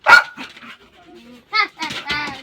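Short, loud dog barks at close range, with a person speaking in between.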